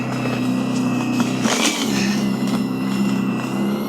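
A Litekon 40V cordless snow shovel runs with a steady motor whine and scrapes along the ground, with a brief louder scraping burst in the middle.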